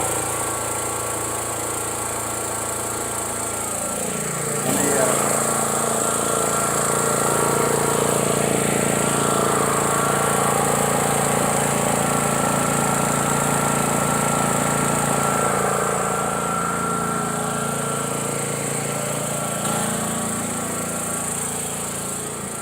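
A loud diesel inverter generator runs close by, a rough, droning engine rumble that rises after a few seconds with a clunk and then holds steady, with no speech.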